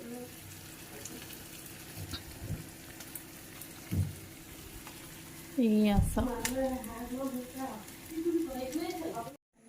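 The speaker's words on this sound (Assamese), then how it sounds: "এয়া চাওক কি ধুনীয়াকৈ ভাজিছোঁ" Duck meat sizzles and crackles steadily as it fries in a pan, with a louder burst of stirring and spitting oil partway through, while someone talks over it.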